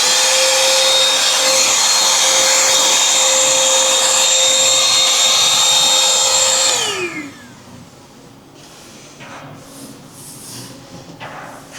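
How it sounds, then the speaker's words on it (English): A vacuum cleaner, used while servicing a 2011 Audi A4, runs with a loud steady whine, then winds down and stops, leaving faint handling noises. "So we got our vacuum,"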